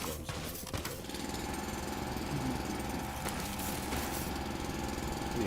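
A mining drill in the video game Foundry runs with a steady, rattling mechanical grind, a continuous buzzing hum with occasional clanks.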